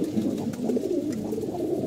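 Low, soft cooing of pigeons, repeated murmuring calls close by with no talking.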